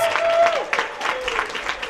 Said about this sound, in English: Let's keep those hands clapping